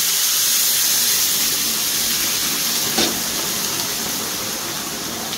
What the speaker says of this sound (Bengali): গরম জল বলে সঙ্গে সঙ্গে কিরম ফুটছে দেখলে